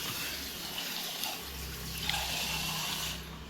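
Rice being washed in water for a village-style donne biryani, a continuous splashing and swirling of liquid with small sloshing surges, close by and without speech.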